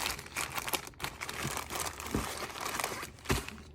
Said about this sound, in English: Next, they'll be put into this Ziploc bag and rolled up